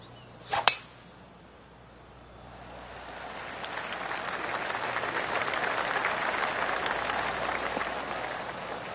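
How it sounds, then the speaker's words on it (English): In the video game PGA Tour 2K25, a sharp metallic clink rings out, then a golf crowd's applause swells gradually and holds steady, a broad soft clapping wash with no speech. "Oh, golf clap. That's a beauty."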